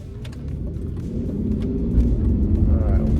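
An aging, high-mileage 2001 BMW E38 with a V12 engine revs up, a steady low rumble that builds slightly in loudness, close to the microphone with no talking.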